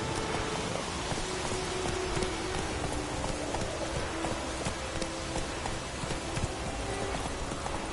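Roach the horse trots in The Witcher 3, a steady run of close clip-clop hoofbeats over a constant hissy ambient bed, even and unbroken throughout.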